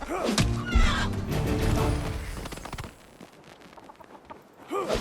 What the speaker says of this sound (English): These chickens are wild.